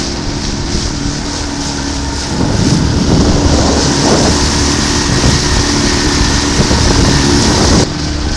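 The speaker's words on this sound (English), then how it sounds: "giving my outboard another good run-in test before the stormy weather" Steady low engine drone of a sailboat's outboard motor during a run-in test, with a broadband wind-like rush layered over it and a brief dip near the end.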